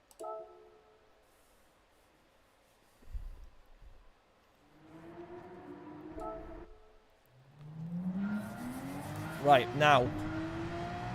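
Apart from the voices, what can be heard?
Porsche 911 racing at Red Bull Ring, Gran Turismo 7 video game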